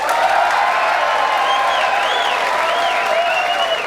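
A large crowd applauds steadily at the 2004 Brunswick Billiards Midwest Classic pool semifinal, held in a hotel casino ballroom in East Peoria, Illinois: dense, continuous clapping, loud and close, with a few faint whistles and whoops.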